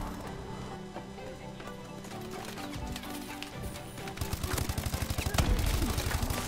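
Call of Duty Advanced Warfare gunfire in multiplayer: a dense, continuous game mix with rapid automatic firing that grows louder and more rhythmic toward the end, while a voice talks excitedly over the top.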